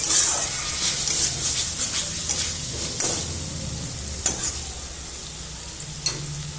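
Food sizzles steadily in a pan while being stirred and mixed after spices and coriander leaves go in, with occasional scrapes and taps of a spoon over the continuous frying hiss.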